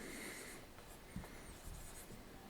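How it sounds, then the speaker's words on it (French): Pen or pencil writing out a sum by hand, a quiet close scratching and rubbing with a few light taps over faint background hiss; no talking. "je vais écrire comme ça"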